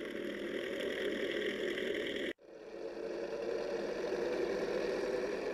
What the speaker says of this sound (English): Boat's driving over again.